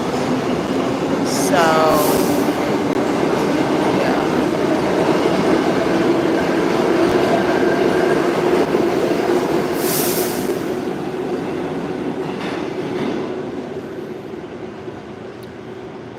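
A train arrives at a station with a loud, steady rumble of rolling wagons, high squeals from the wheels and clickety-clack over about sixteen seconds, the din easing toward the end, with a voice talking briefly.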